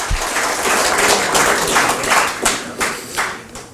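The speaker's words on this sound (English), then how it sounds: "Can I give a round of applause for that?" A small crowd claps for a city's 130th anniversary at a police chief's address in Lakeland, a brief burst of fairly loud, close hand claps that swells and then tapers.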